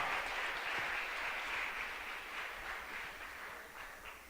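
A church congregation claps for the Lord in a sustained, fairly faint wash of applause that holds steady and tapers slightly near the end.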